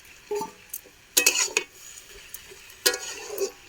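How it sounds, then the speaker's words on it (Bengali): Fried shrimp being mixed with vegetables in a pan, quiet faint sizzle punctuated by a few sharp clanks and scrapes of a spatula against metal, with pauses between strokes. "একটু ভালোভাবে সবজির সাথে মিশিয়ে দেবো চিংড়িগুলো।"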